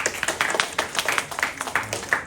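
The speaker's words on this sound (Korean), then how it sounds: "박수" A church congregation claps during a Sunday service, a brisk run of overlapping hand claps that pulses in a steady, lively rhythm for a couple of seconds.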